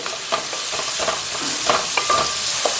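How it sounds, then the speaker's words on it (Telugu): Onions stirred and turned in hot oil: a loud, dense sizzle and crackle throughout, with quick repeated scrapes of a spatula against the pan, close up and with no voices. "ఉల్లిపాయలు బాగా నూనె కలిసేటట్టు అటు ఇటు తిప్పుకోవాలి."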